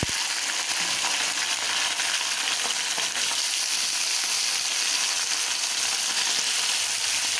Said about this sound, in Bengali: এখন আমি এর মধ্যে বেগুন আলুটা একটু ভেজে নেব।